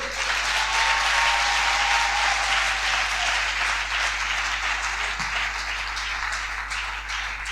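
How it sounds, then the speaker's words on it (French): A church congregation at a Sunday service breaks into sustained, dense applause with cheering, loud and steady throughout with a faint tonal cry rising briefly above the crowd. "Plus d'acclamation pour eux."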